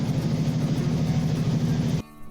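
Canal boat engine running at a pier in Bangkok, a steady low throbbing rumble heard up close, cutting off abruptly near the end.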